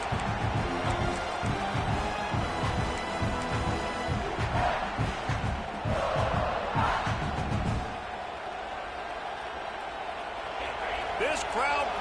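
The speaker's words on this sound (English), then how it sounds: "This crowd bringing the energy and noise early" A football stadium crowd roars after a defensive sack, a loud, dense wash of cheering and shouting that eases off toward the end, with commentators talking over it.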